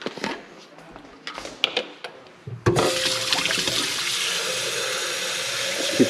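Tap water runs into a protein shaker, a loud steady splashing rush that starts abruptly after a few seconds of quieter clinks and handling noises.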